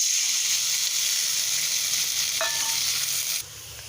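Small-cut tomatoes sizzle in a pan over tempered spices, a steady bright frying hiss close by with one brief metallic clink, dropping abruptly quieter near the end.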